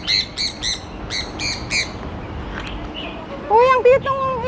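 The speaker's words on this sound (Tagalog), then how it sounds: "Uy, ang cute ng ibon, oh." Bird calling in a park on Ma Wan island, Hong Kong, with a run of repeated high chirps near the start and louder squawking calls toward the end, over soft background noise, with people talking nearby.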